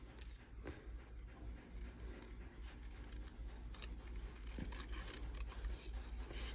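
Scissors snip through paper leaves for a Stampin' Up! monkey craft, quiet close crisp cuts in a steady irregular rhythm over a soft background hiss, with no talking.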